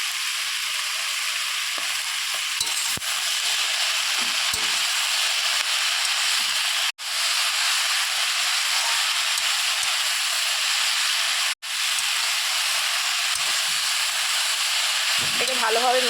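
Pumpkin greens and stalks sizzle steadily in a pan with salt and turmeric, a continuous frying hiss with faint scraping stirs, two brief cuts to near silence, and a short bit of voice at the very end.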